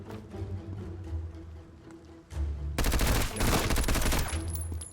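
Full-auto rifle fire in Road to Vostok, a loud, sustained burst of rapid shots lasting about two seconds, coming after a few quieter single thumps and movement.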